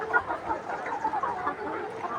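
Chickens in a cage cluck busily at feeding time, a short burst of close, overlapping clucking with no voices.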